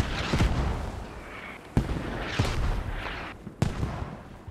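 Mortar barrage in a military video game, several heavy booming impacts spaced a second or two apart, each a sharp crack that rolls into a rumbling decay, fairly distant and moderately loud.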